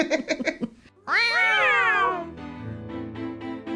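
A cat gives one loud, drawn-out meow that rises then falls, heard close, following a few short soft sounds.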